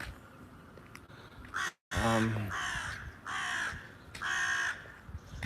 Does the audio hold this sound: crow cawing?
yes